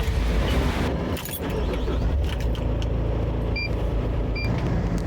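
Pickup truck engine drives along toward a job site, a steady loud road rumble with a brief dip in the middle and a few light clicks and jingles inside the cab.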